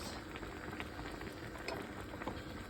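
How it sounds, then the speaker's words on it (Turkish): Quince jam with honey simmers in a pot, a steady close bubbling and popping boil with soft sputters throughout, no voices. "Burada pişiyor ayva reçelimiz"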